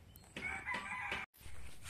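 A rooster crows close by in a brief burst, followed by a short break and further clucking, with no voices.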